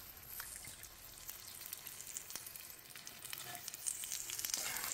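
Pork fat fries in hot oil while cooking oil is rendered from it, giving a steady close sizzle with scattered pops and crackles that builds slightly toward the end, with no talking.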